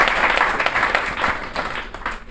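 An audience at a comedy program by a Pakistani organization breaks into loud, continuous applause, a dense wash of clapping heard close up for a couple of seconds.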